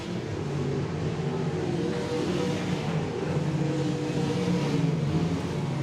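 Sprint and late model race cars roar around the dirt oval at Wagner Speedway, a steady, dense engine drone with sustained revving and no clear gaps, loud and continuous throughout.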